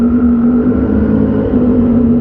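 A 2023 Triumph Street RS 765 motorcycle engine runs loud and close, holding a steady, throaty hum with slight rises in pitch throughout, no voices over it.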